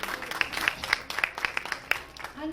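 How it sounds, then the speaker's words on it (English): Scattered, fairly sparse clapping from a small audience at a Saucony Philippines ambassador introduction, distinct individual claps in an uneven rhythm, quiet overall, with a voice starting to speak at the very end. "Let's give her a round of applause first"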